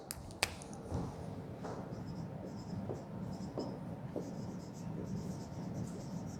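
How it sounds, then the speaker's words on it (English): A pen writing the year and date into a cash book, with steady close scratching strokes and a sharp tap near the start, over faint room noise and no clear talking. "I will write down the year on both the sides at first."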